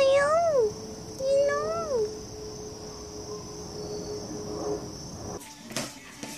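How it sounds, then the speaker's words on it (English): A cat gives two rising-and-falling meows in quick succession early on, close and fairly clear, followed by quieter background noise and a brief rustle near the end. "Yeah, it's a cat."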